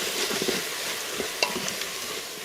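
Cumin being stirred into food in an Instant Pot, with a soft scraping and sizzling stir close up and a few light utensil clicks against the pot.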